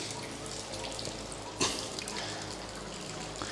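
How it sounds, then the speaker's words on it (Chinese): A steady, fairly faint wash of an underground river flowing inside a mountain cave in Guizhou, with one brief splashy burst midway; no voices. "里面好大的水流啊！ 我听到哗哗在响。"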